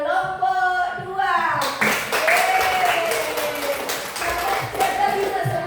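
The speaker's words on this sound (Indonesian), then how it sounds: "Kasih tepuk tangan untuk kelompok 2." Classroom applause for a student group, a burst of scattered clapping from many hands that runs several seconds while a teacher's voice and some chatter carry on over it.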